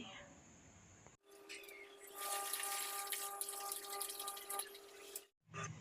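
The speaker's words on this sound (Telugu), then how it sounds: "రైస్ని రెండుసార్లు అయితే సింక్లో వాటర్తో కడుగుతాను" Running tap water in a kitchen sink as rice is rinsed, a steady close rush of water lasting several seconds, with someone talking before and after it.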